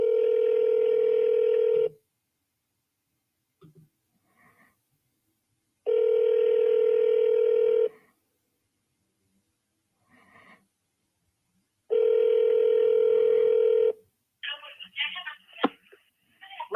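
Telephone tones from a call placed to a Google subscriber number: three long, loud steady tone bursts separated by quiet gaps, with faint breathing and small handling noises between them and a short clatter at the end.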